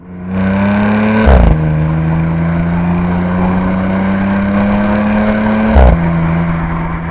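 A supercharged Audi S4 accelerates hard, its engine note rising loud and close, dropping sharply at two gear changes before climbing again.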